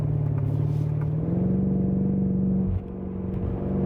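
A 2018 BMW M5 with a torque-converter automatic drives in its sportiest mode, its engine droning steadily and loud, then stepping up in pitch as a paddle-shifted gear change lands, the note briefly dipping before the engine pulls on.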